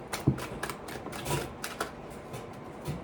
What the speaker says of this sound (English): That's my radiator turning on the heat.